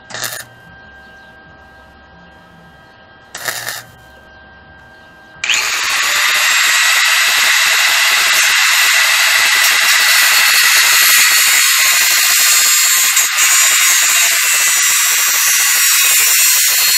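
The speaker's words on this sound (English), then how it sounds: "So I'm going to weld this piece here." A piece is being welded onto an 80cc motorized BMX bike frame. Two short bursts come first, then a loud, steady, crackling hiss starts and holds for the rest of the clip.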